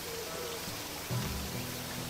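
Steady rain falling in the farming video game Sakuna: Of Rice and Ruin, a soft, even hiss of rainfall throughout with faint low game tones beneath.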